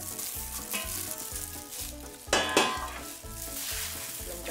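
Mangosteen and carrot being stirred together in a hot pan, with a steady sizzle of frying, rhythmic scraping and stirring strokes, and a brief louder burst of spatter midway, close and alone without talk.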